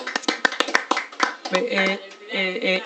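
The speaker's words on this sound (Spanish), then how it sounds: "un aplauso, un aplauso" A few people clap briefly and unevenly at a party, with scattered close hand claps in the first moments before voices and party noise take over.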